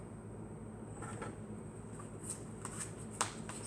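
Tarot cards being shuffled and pulled from the deck, soft close riffling and flicking with a few sharp card snaps near the end, quiet throughout.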